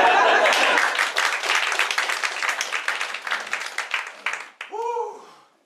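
Audience at an improv comedy show claps in a dense burst that thins out into scattered claps, then stops, with a voice briefly speaking at the end.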